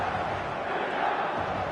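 Football stadium crowd on match day, a dense continuous roar of many voices heard at a distance, steady throughout.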